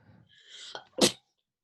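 A single sharp sneeze, preceded by a quick drawn-in breath, close and fairly loud, then silence.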